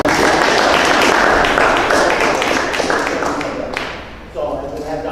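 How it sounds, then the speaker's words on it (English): A crowd at a Hall of Fame press conference applauds a schools superintendent, loud sustained clapping filling the room before tapering off, with voices rising underneath near the end. "I want to give you a round of applause."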